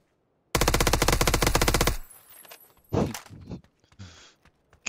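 Rapid automatic gunfire bursts out loud and close in the PUBG video game, a fast unbroken string of shots lasting over a second, followed by scattered thuds, footstep-like knocks and softer clatter.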